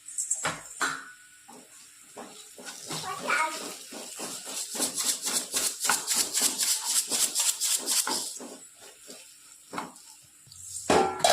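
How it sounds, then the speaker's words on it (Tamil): Spiced masala with ground pepper and cumin being stirred and turned in a frying pan, a steady run of close scraping and sizzling strokes that swell in the middle and thin out toward the end. "இப்போ இது எல்லாத்தையும் நல்லா வந்து மிக்ஸ் ஆகிற மாதிரி பெரட்டி விட்டுறலாம்"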